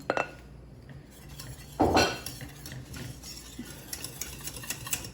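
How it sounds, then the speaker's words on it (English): A spoon scrapes around a bowl while banana cream pie filling is stirred, giving a loud scrape near the start followed by lighter clinks and taps of metal on the dish, close by with no talking. "I'm just going to scrape my bowl out, make sure I get all that stuff."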